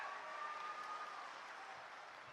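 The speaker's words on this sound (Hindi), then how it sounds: "एक साथ जोरदार तालियां बजाकर।" Rally crowd in Ratlam clapping together in welcome for Rahul Gandhi, a dense, steady wash of applause from many hands at a distance, fairly faint and even throughout with no voices on top.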